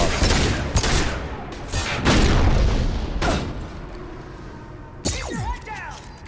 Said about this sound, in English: That was way too many shots.